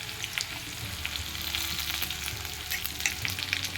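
Garlic, onion and curry leaves frying in hot oil with cumin and mustard seeds, a steady close sizzle with crackling pops throughout and no talk.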